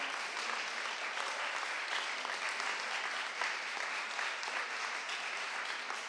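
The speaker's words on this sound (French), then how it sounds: "On peut les applaudir aussi très fort." Sustained audience applause at the final of a speech contest, a steady even wash of many hands clapping in a hall, fairly distant and without voices over it.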